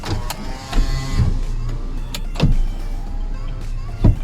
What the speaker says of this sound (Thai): ส่วนหน้าต่างทั้ง4 บานนะครับ ก็ขึ้นลงใช้งานได้ครบนะครับ